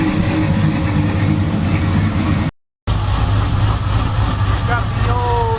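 A Dodge Ram truck engine runs steadily after a new pump install, a loud constant low rumble with a brief cut in the middle, and faint voices underneath.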